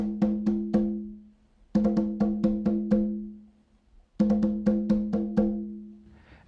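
Hand drum played in three short bursts of a forte pattern with three extra beats, each a run of about five to seven resonant strokes with pauses between, close and distinct with no voices.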